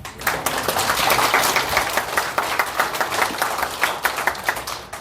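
An audience claps together at a spring filial-piety camp gospel session, a steady, fairly loud wash of overlapping hand claps lasting several seconds.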